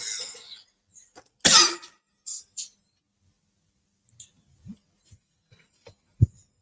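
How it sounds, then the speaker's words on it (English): One sharp, loud cough rings out in an otherwise quiet indoor room, followed by a few faint clicks and small knocks. "when I coughed, y'all heard it too?"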